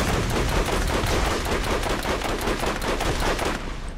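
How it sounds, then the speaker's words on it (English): Rapid automatic gunfire from a video game shooter, Borderlands, sounds as a loud, continuous burst of closely spaced shots that holds steady for several seconds before cutting off abruptly near the end. "Boy, that gun is loud."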